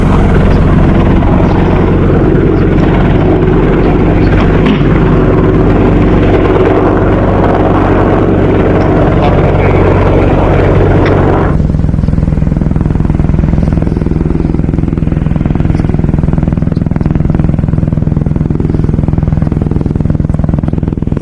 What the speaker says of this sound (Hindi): इधर एलएसी के बेहद करीब अपाचे हेलीकॉप्टर के साथ भी हमारे वायुवीर अपनी ताकत लगातार दिखा रहे हैं